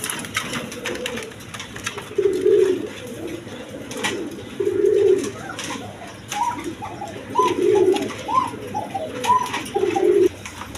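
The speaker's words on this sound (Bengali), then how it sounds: "এইখানে এক পেয়ার কবুতর আছে, রেসার কবুতর। দেখেন আফসান গিরিজিয়াল, নটটা খুব ডাকাটাকি করতেছেন" Racing pigeons in a loft coo in repeated low throaty bursts, several calls close by and fairly loud, with softer cooing and faint background chatter between them.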